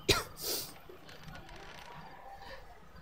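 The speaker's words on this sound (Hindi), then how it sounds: "खांसी बहुत हो रही है" A sharp cough bursts out at the start, followed by a second softer cough or throat-clearing half a second later, then quiet background noise.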